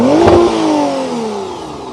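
A 2025 McLaren Artura Spider exhaust blips sharply in a single loud rev, the engine pitch rising then falling away as it settles back, close and clear with no talking.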